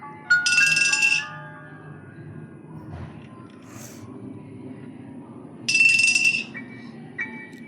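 Glass bottle clinks in the horror game Granny, two bright ringing hits spaced several seconds apart, loud and close over a quiet low background.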